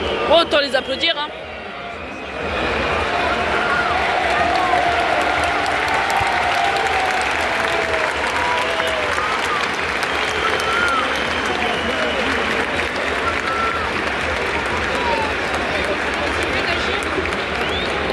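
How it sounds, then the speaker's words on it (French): Football fans in a stadium at an SM Caen versus Martigues match clap and cheer as a dense, continuous crowd roar, with people talking nearby over the noise. "autant les applaudir hein"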